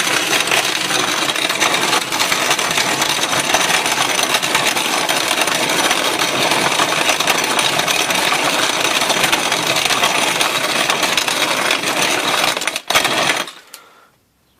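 A grain mill grinds malt for home-brewed beer, a loud, steady gritty rasping that runs unbroken for most of the clip before abruptly stopping near the end.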